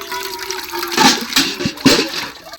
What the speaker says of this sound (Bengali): আমি জলটা ভরে নিই ঝটপট।